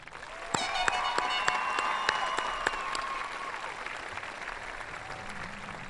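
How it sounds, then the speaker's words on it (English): A graduation crowd applauds at a 2014 high school ceremony, sharp distinct claps standing out from a broad wash of clapping and a few whistles, gradually thinning and fading toward the end. "May I please ask you just for one more round of applause for these fine men and women."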